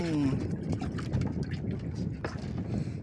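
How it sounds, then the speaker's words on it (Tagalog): Strong wind buffets the microphone while fishing from a boat, a loud steady rush with gusting roar and scattered knocks and splashes nearby. "naglakas na naman yung hangin"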